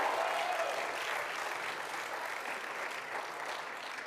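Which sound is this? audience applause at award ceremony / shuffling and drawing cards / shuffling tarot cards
audience applause at award ceremony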